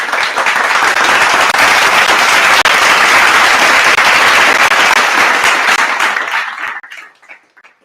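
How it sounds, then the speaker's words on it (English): A loud, dense round of applause fills most of the stretch, steady and unbroken, then tapers off to silence near the end. "a round of applause, man"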